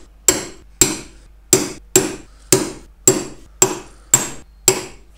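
Nine sharp hammer blows land at a steady pace, about one every half second, each ringing briefly as pieces are driven into a wooden Commercial beehive brood body during assembly; close and alone, with no talk.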